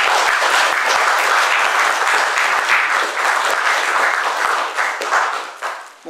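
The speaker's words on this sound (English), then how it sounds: "So a round of applause, please, for Kevin Stafford." Steady, dense audience clapping fills a party AGM hall for about six seconds as a speaker is welcomed, holding an even level before thinning out at the end.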